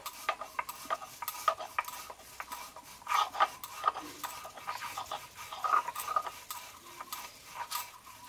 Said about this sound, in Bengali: এবার কালো জিরে লবণটা আমি আগে বেটে নেব।